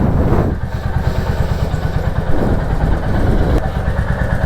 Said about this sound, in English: So that's how the engine sounds when it's in idle